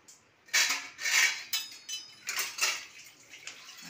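Plate set over a cooking pot of simmering pods as a lid, a few close metallic clanks and clinks of dish against pot, loud and brief, with no talk.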